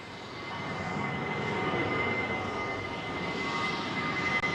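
An old jet airliner climbs out from Heathrow runway 09R overhead, a broad, steady engine roar that swells slightly and holds, moderately loud, with no talk.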